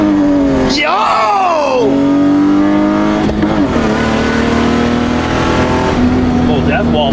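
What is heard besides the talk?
stock BMW E36 accelerating and shifting from first to third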